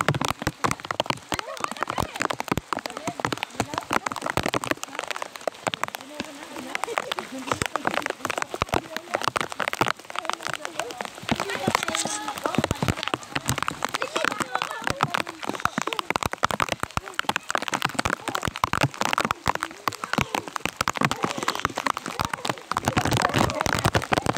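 Steady rain patters densely on a surface, a continuous crackling wash of drops that stays loud and even throughout.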